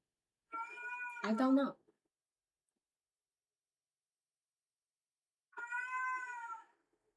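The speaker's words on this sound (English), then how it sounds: "my cat has just been screaming this entire time" A house cat lets out two loud, drawn-out screaming meows close by, the first rising and cracking, separated by several seconds of silence.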